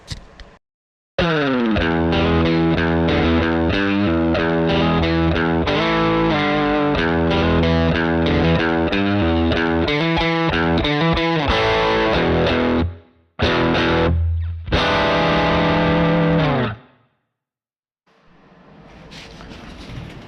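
Distorted chords from an Eart E-335 electric guitar ring out loudly through a tube amplifier, sustained strumming for several seconds, with brief pauses before fading into quiet hiss.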